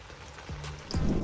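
Rain falls on a campsite, a dense steady patter of drops on surfaces with a few louder splashes close by, continuing throughout with no voices.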